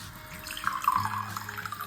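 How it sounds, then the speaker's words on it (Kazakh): Water pours from a tap or jug into drinking glasses during a children's science demonstration, a close, steady trickle and splash lasting about two seconds with no talk over it. "Ал мен сендерге стакандарға су құйып беремін"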